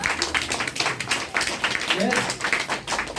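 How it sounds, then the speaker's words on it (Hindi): An audience claps at a seminar, with rhythmic, closely spaced clapping in fairly loud pulses, and a voice briefly talks over it. "एक बार जोरदार ताली जिन्होंने फायदा लिया है"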